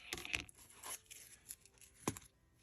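Scissors cutting through a piece of lace from a dress, a few quiet crisp snips and tearing rustles spaced irregularly, close up and faint.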